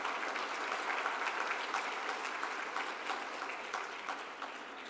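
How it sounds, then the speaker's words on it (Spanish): Sustained applause from a symposium audience at a nephrology meeting on expanded hemodialysis, welcoming a doctor to the stage; steady, dense clapping throughout at an even level. "Vamos a recibir con fuertes palmas a la doctora Almudena Vega"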